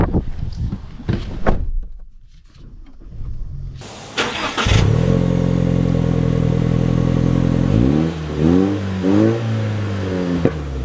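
A 2024 Toyota Tacoma TRD Off-Road or 2024 Chevrolet Colorado ZR2 pickup starts up partway through with a loud engine catch, holds a steady idle drone, then revs and pulls away with rising and falling engine pitch. A little quiet handling noise comes before the start.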